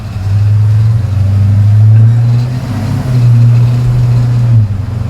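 An LS-swapped 1953 Chevy 3100 patina farm truck with independent front suspension drives on the road, its engine a loud, steady low drone from inside the cab that rises and eases slightly as it cruises.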